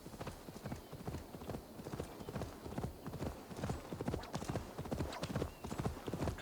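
Horse hooves in the Assassin's Creed Valhalla video game, a steady rhythmic clip-clop of a trotting horse, close and continuous, with faint game voices under it.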